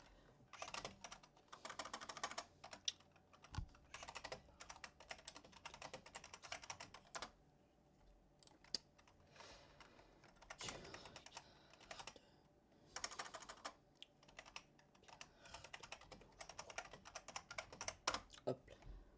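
Rapid typing on a computer keyboard during Roblox play comes in dense bursts of close clicking with short pauses, while a voice talks intermittently over it.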